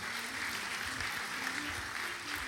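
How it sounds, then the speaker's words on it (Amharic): Congregation clapping during a church service, a dense continuous wash of applause throughout, somewhat distant and moderate in level. "አጨብጭቡ ለጌታ"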